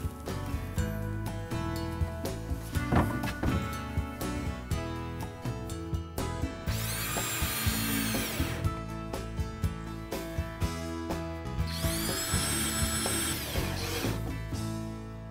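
A power drill fastens pre-cut ledger strips into a bath alcove, whining up to speed in two bursts amid rattling and clicking of tools, with no speech.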